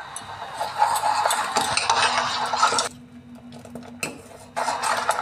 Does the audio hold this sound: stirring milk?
yes